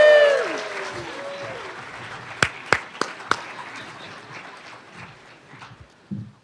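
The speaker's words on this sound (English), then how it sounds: "Let's give him a big round of applause." Brief burst of audience applause at an award ceremony, a few sharp claps standing out near the start before the clapping thins and fades to a low murmur.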